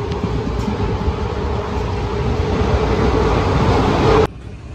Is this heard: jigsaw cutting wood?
no